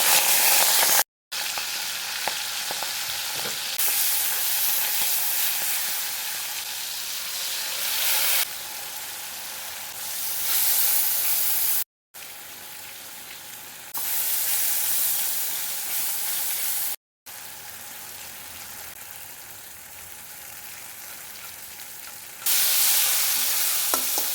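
Whole prawns sauté in a pan with a little water, giving a bright, continuous sizzle and hiss close up, interrupted by a few brief silent cuts and swelling louder in bursts, with no voices.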